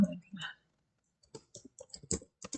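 Clicks from a computer mouse on a desktop while a Java CRUD application is worked on in NetBeans, several short sharp taps spaced irregularly after a stretch of speech, close and fairly quiet.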